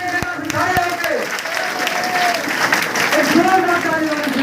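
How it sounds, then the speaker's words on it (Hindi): An audience at a meeting program in Basti claps to welcome a guest, with steady applause running throughout while someone speaks over it. "एक जोरदार तालियों से स्वागत कीजिए"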